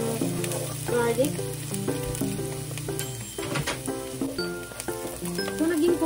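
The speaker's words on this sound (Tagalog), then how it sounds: "So, lutuin muna natin guys itong garlic." Garlic, onion and ginger frying together in a pan for Filipino pork adobo, giving a continuous bright sizzle with scattered clinks of a utensil, and music playing underneath.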